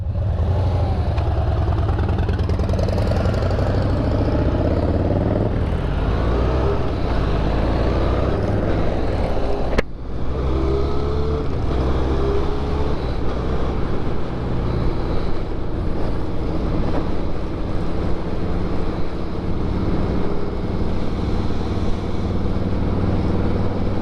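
A Harley-Davidson X500 motorcycle rides on open road near Tamworth, NSW, with constant engine drone and heavy wind rush over the microphone throughout, one sharp thump near the middle.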